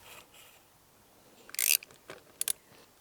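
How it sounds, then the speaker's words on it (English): Tool work loosening a nut beneath the handguard on a Honda CRF300L, heard as a faint rustle then a sharp metallic ratcheting burst and two quick clicks close by, with no talking. "And now we need to disconnect a nut that is right underneath."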